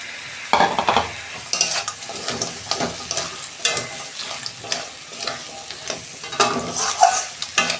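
Sea crabs tumble into a pan of fried spice masala and get stirred, giving close scraping and clattering bursts over a steady sizzle, with no talking.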